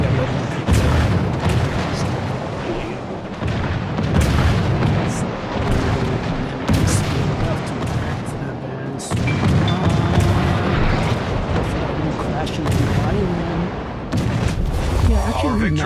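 Heavy naval ship guns in World of Warships boom repeatedly in rolling volleys, loud and dense over a constant battle din, with a voice talking throughout.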